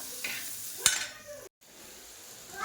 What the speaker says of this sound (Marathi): कांदा आम्ही तेलामध्ये तळण्यासाठी ठेवलाय